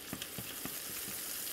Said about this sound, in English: And then we plunge the basket into boiling hot lard.